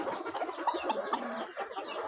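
White-tailed gamecock stag, a two-time winner, giving soft clucks amid backyard ambience with a steady insect-like hum, brief and close.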